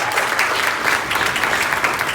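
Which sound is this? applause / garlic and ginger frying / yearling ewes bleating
applause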